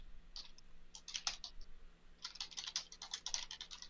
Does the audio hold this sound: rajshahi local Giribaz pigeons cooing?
no